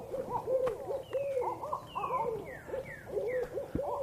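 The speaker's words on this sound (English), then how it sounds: "What the heck? It's an owl." Repeated owl hoots in a wet Texas state park's wooded trails, several clear calls close by with a second animal's higher calls mixed in between.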